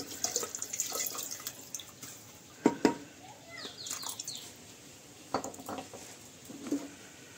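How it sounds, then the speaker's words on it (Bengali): Water pours into a pressure cooker while dal is being cooked, a soft, intermittent trickling and splashing with a few brief louder splashes, faint and close. "এবার আমি এতে জল দিয়ে দেবো।"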